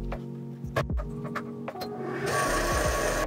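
Sewing machine stitching rows of a disappearing pinwheel quilt block, with short bursts of mechanical clatter and handling knocks, then a sustained fast stitching run near the end, close by with no talking.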